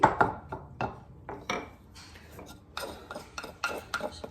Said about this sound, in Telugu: ఈ చిన్ని రోటీలు నుంచి డించి డించి కొంచెం మనం గ్రైండ్ చేసుకోవాలి